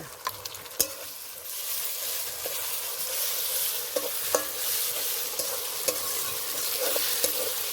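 Fried onions with ginger and garlic paste being stirred in a pan for meat ghugni, a continuous hiss of sizzling oil broken by scattered scrapes and taps of the spoon, close and fairly quiet, with no talk.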